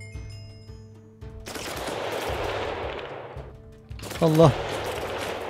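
Gunfire in a modded Minecraft game: two stretches of loud, rapid automatic shooting separated by a brief lull, with someone speaking briefly between them.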